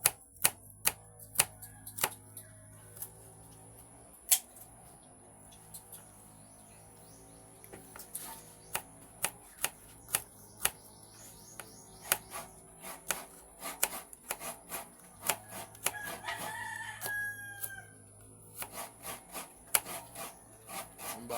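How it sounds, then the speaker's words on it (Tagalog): Garlic and onion being grated by hand, with repeated rasping strokes and sharp scraping clicks in an irregular rhythm, close and fairly faint, with no talk. "ginigiris na natin ang bawang sibuyas"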